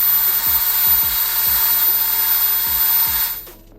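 Metal lathe taking a fine finishing cut along the flutes of a revolver drum, a steady high hiss of cutting with low periodic knocks, running evenly before stopping abruptly near the end.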